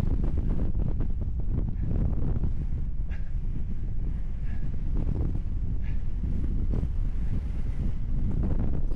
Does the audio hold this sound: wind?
yes